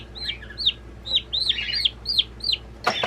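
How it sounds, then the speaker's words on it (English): Baby turkey poults in an incubator give repeated high, arching peeps, about seven calls in three seconds, close and fairly clear, with a sharp knock near the end. "We have an incubator full of baby turkeys."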